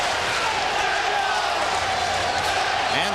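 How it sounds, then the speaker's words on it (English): A packed boxing arena crowd at ringside during a heavyweight bout roars in a dense, constant wash of voices, with cheering and chanting blending into steady loud noise. "And the crowd at ringside chanting"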